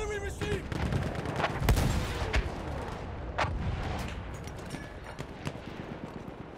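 Distant artillery fire in a war video game, scattered muffled thumps and cracks spread over several seconds under a dense bed of battle noise and radio-style voices.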